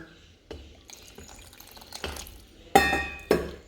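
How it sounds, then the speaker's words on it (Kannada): Water added to rava idli batter, a few short splashing pours and clinks, the last two sharper and louder, in a quiet kitchen. "ಸ್ವಲ್ಪ ನೀರು ಹಾಕುವ"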